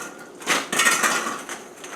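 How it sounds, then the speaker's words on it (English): Plastic Easter eggs tumble into a container for a candy bouquet, a short burst of light hollow clattering followed by a second, longer rattle as more eggs pile in, close by with no voices. "Just we're going to fill it with all of these Easter eggs."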